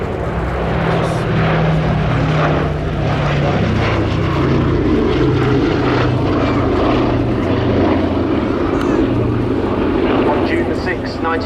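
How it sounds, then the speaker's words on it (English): A B-17 bomber passes at an airshow, its propeller engines giving a loud, continuous drone that swells and rolls as it flies by, with an announcer speaking over it. "Another amazing aircraft coming in for its final pass"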